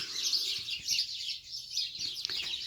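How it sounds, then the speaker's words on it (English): Outdoor birdsong fills the air with many overlapping high chirps and tweets, a steady moderate chorus with some sharper calls standing out, and no one talking. "I think I've got a lot of birds."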